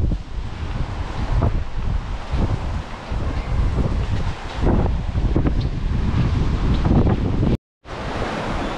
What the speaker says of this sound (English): in 1 hour time, the wind is picking up